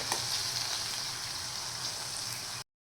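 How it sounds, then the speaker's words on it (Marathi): Tomato frying in oil in a pan, a steady, dense sizzle and crackle up close, quite soft, with no talk, ending abruptly. "आपण आता या तेलामध्ये छान फ्राय करून घेणार आहोत"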